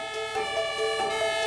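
A German ambulance siren wails continuously, a loud rising-and-falling electronic tone with strong harmonics, close by, with a faint vehicle rumble underneath.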